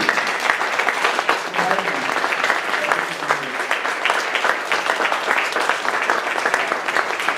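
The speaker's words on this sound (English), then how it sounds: "if we could stand up and applaud Simon" An audience at a startup meetup gives a sustained, even round of applause for a speaker, dense clapping from many hands filling the room throughout.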